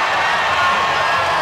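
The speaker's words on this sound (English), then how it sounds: "the crowd going wild on this, too" Crowd at a college volleyball match cheering and roaring, a dense, loud, continuous wall of voices filling the whole moment.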